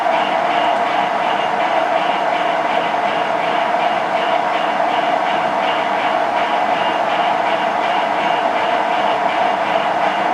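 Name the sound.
grinding a brazed tool bit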